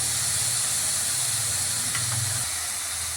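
Sliced onions sauté in a hot pan with curry leaves and coriander added for tomato idiyappam, giving a steady, close sizzling hiss that runs unbroken throughout, with no talking.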